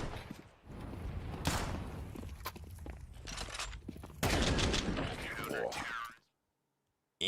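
Bursts of automatic and single gunfire in a Counter-Strike match crackle in quick succession under energetic commentary, ending abruptly in silence.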